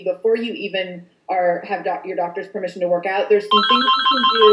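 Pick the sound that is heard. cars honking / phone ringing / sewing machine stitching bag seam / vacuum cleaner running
phone ringing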